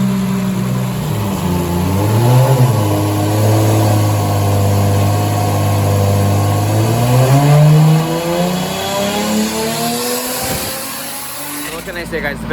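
A Toyota JZ engine revs hard and sustained on a dyno, its pitch climbing and holding near the top, then dropping off and cutting out near the end.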